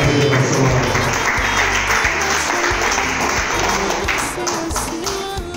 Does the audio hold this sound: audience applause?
yes